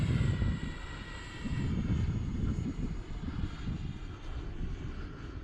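A Freewing F-16 70mm EDF radio-controlled jet flies overhead with a steady, broad ducted-fan whoosh that holds at moderate loudness throughout, without pauses.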